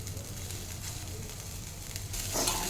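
An egg fries in a pan for egg poha, giving a close, steady sizzle and crackle with a brief louder hiss near the end.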